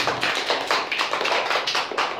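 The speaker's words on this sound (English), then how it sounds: "Clap for Hanya." Classroom of children clapping together for a classmate after a reading lesson, a brisk, dense patter of many hands lasting a couple of seconds, fairly loud and close.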